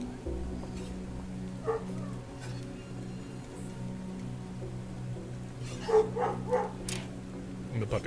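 A puppy yips and barks in a few short bursts with whimpery tones, fairly close but modest in level, mixed in with a person talking.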